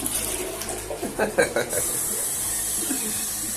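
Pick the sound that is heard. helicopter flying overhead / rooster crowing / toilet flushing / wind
toilet flushing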